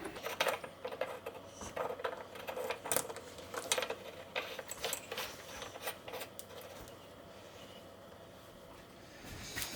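A brass bonnet nut on a Delta Brizo kitchen faucet being handled, giving close, irregular metallic clicks and light taps with no talking.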